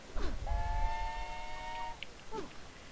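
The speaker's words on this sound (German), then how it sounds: "Ein Zug." Train whistle in the Lego Movie video game, a single sustained chord-like toot lasting over a second, with chugging and other game noises around it at moderate level.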